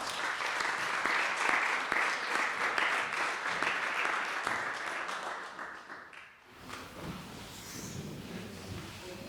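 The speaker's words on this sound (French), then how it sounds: "Et ben on les applaudit s'il vous plaît." Theatre audience applauding a young drama troupe at a season presentation, a dense sustained clatter of many hands for about six seconds before it thins out and trails off.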